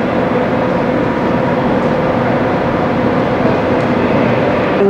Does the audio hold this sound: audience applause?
no